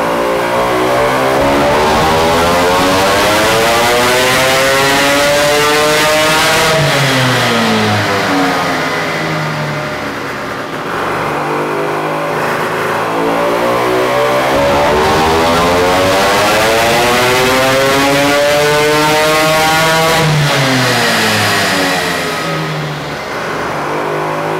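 A Vespa scooter engine, a scratch-built 40 HP BFA 306, runs on a test bench with a first prototype exhaust, droning loudly and rising and falling in repeated revving sweeps, close and continuous without speech.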